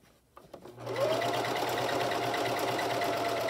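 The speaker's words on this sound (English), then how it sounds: "I'm keeping the right side of my zigzag so it goes right over the edge as I'm sewing down this" A sewing machine zigzag-stitches over the fabric edge of an 18-inch doll dress bodice. A few quiet clicks come first, then the motor whirs up into a steady, close, fast rhythmic hum of stitching.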